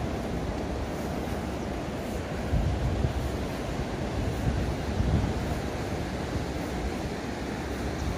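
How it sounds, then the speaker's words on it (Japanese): Rough sea waves roll in at Inasa beach, a constant heavy roar of surf with wind buffeting the microphone and a couple of swells rising louder, no talking. "ちょっと波が今日荒いっす。"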